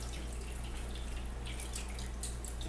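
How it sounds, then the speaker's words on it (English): Water drips and trickles out of a briquette press after squeezing, a steady wet patter over a constant low hum. "squeeze out the water. You can see it dripping out here"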